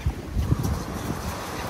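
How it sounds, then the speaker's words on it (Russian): Light breeze blowing across the Black Sea waterfront at Sochi, a steady low rush of wind buffeting the microphone with faint wave wash beneath, brief and continuous. "Дует легкий ветерок"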